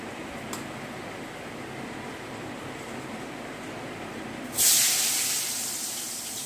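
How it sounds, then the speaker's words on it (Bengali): Potatoes and eggplant fry in a pan on a home stove, giving a steady soft sizzle, then a sudden louder hissing burst of spattering oil that slowly fades. "আর এদিকটা করছি আলু ভাজা, আলু ভাজা বেগুন ভাজা।"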